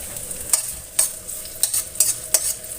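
Shallots sautéing in a small amount of oil in a pan give a steady sizzle, broken by several sharp scrapes and clinks from stirring at irregular intervals.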